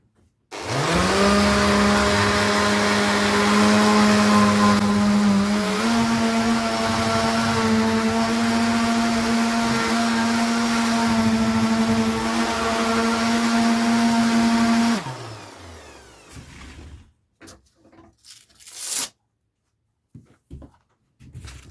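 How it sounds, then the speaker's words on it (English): An electric sander runs continuously for about fifteen seconds, sanding back a coat of finish with a steady whine whose pitch rises slightly partway, then cuts off, leaving scattered handling knocks and clatter. "get the sander out, and we'll give it a sand"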